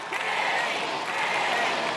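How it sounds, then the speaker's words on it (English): A dense, steady roar of a large crowd cheering at an American Ninja Warrior finals event in Atlanta, an unbroken wash of voices with no single shout standing out. "And with the crowd chanting Kenny"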